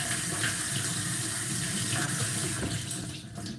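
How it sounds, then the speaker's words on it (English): Tap water runs steadily from a kitchen faucet into a sink as onions are rinsed, a continuous broadband splashing hiss held at even loudness throughout, close by with no talking. "we're just gonna rinse off these onions real quick"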